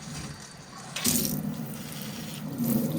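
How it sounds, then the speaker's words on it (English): A Moen single-handle pull-down kitchen faucet runs into a sink, a steady close rush of water that swells louder after a second and stays continuous. "grab that, pull down, and turn your water on"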